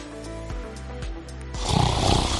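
A sleeping wolf, a storybook creature in a grandmother's cottage, snores loudly in long, slow rumbling breaths, then a harsher, noisier snort swells near the end, close and alone with no talk.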